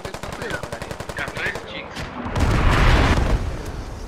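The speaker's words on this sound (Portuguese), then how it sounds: "É tiro, mano." Heavy gunfire in a 50-versus-50 Squad military video game battle: rapid machine-gun bursts in a steady rattling rhythm, then a loud booming barrage of explosions and roaring fire, close and intense throughout.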